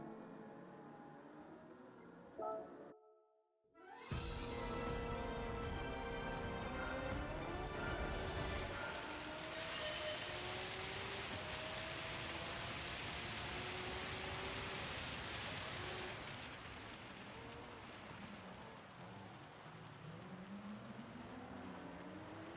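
Rain pouring over the track during a wet race in Gran Turismo 7, a steady loud hiss of falling water layered over engine whine and gear shifts of the racing car, continuous throughout after a brief silent gap.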